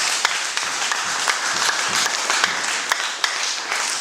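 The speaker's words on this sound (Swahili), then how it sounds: "Muongezee tena Yesu makofi" A church congregation claps during a Swahili sermon, producing steady, dense applause at full loudness for the whole stretch, with scattered sharper claps standing out and no voices on top.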